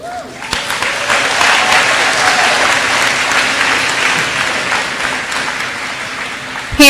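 An audience at an eighth-grade promotion ceremony for Rogers Ram graduates breaks into loud, sustained applause, a thick wall of clapping from many hands that swells and holds for several seconds.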